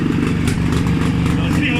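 A carburetted engine runs steadily on test with an even, rough low drone and no pauses, loud and close, while people talk nearby.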